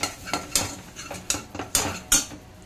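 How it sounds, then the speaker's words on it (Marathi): A metal spoon stirs gram flour (besan) into hot oil tempering in a pan, producing loud, close clinks and scrapes against the pan at an irregular pace, about six sharp strikes over soft scraping. "तुम्ही बेसन भाजून सुद्धा याच्यात टाकू शकता, पण मी डायरेक्टली या फोडणीत ॲड केलेलं आहे आणि छान आता ते परतून घेणार आहे"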